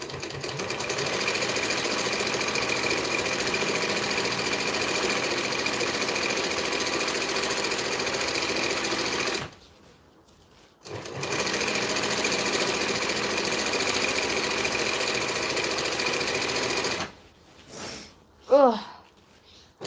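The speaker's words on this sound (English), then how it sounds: "It's sewing it quite easily though, which I like, except for these crazy bulky corners." A sewing machine stitches through bulky shade sail fabric in long steady runs, its motor whirring loud and close with two brief pauses, the second followed by a few squeaky handling noises.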